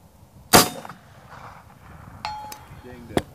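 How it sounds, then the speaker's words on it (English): A .45 slug from a slow-moving air gun strikes a steel gong 250 yards away. A sharp shot opens the clip, and a faint metallic ring follows much later. Brief clangs and knocks come near the end. "I want you to hear a steel gong get hit at 250 yards with this slow moving 45 slug"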